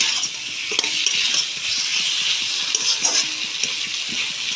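A mustard, green chilli and cumin paste is stirred and mixed in a hot pan, giving a steady close sizzle with soft scraping strokes running through the whole stretch and no talking.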